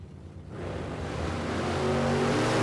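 A Dodge Charger drag race car launches at a drag strip, its engine rising from a low idle into a loud, climbing roar that builds steadily over a couple of seconds.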